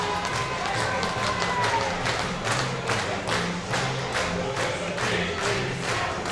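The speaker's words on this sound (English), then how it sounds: "a great crowd at Blacktown International Sports Park, cheering along to that" A large stadium crowd at Blacktown International Sports Park cheers and chants along to the Giants team song during an Australian football match, a dense continuous roar with rhythmic claps or thumps throughout.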